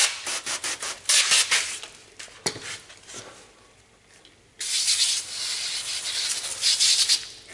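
Wet sanding with 1000-grit sandpaper gives close, loud rubbing strokes: a burst of quick strokes, a quieter pause, then a sustained stretch of steady scrubbing, with no talking.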